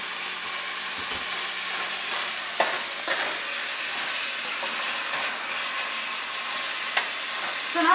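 Tomatoes frying in a pan for pav bhaji, a constant close sizzle with occasional scrapes and clinks of a spoon stirring, no talking.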